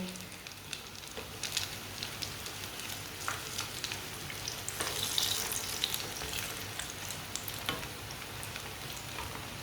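Crispy kababs fry in a pan with oil, giving a steady close sizzle and crackle with faint stirring scrapes, heard alone with no talk throughout.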